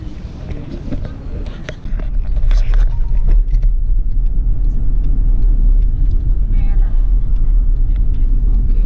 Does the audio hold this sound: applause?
no